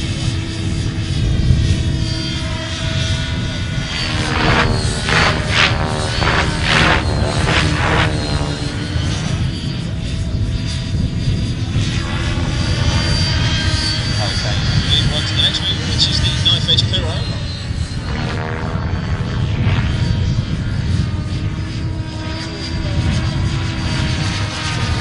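A model aircraft engine buzzes steadily and loudly throughout a nose-down, sideways tick-tock manoeuvre at a Grass Roots 2013 flying event, its pitch rising and falling as the plane rocks, with outdoor ambience and a voice commentating over it.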